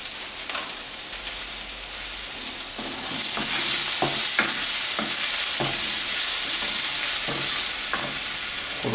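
Jackfruit meat cooks with herbs such as chives and parsley in a pan, giving a continuous close sizzle that swells midway, broken by repeated stirring clacks of a spoon against the pan.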